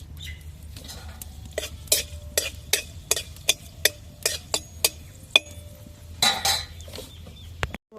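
A dried red chilli fries in oil in a pan with mustard seeds while it is stirred. Sharp, regular clinks and taps of a spatula against the pan repeat about once a second over a faint sizzle.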